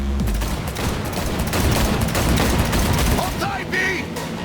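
Rapid gunfire during a car chase in Cyberpunk 2077, dense bursts of shots rattling over a roaring engine, with shouted voices mixed into the chaos.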